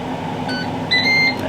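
Air fryer sounding a pair of short electronic beeps, the second stronger, over a low steady hum of the running appliance.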